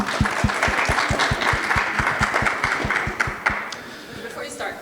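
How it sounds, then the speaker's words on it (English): Audience at a veterans expo panel clapping, a moderate round of applause with distinct thumping beats mixed in, tapering off toward the end as voices murmur. "Let's give them a round of applause"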